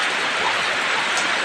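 Steady rain falls close by during Dasara preparations at a home, a dense, even hiss with no breaks across the short stretch.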